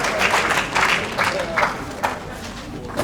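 An audience at an award ceremony and product launch in Gambia applauds, a burst of clapping that is strongest at first and then thins and fades, with a voice speaking over it near the end.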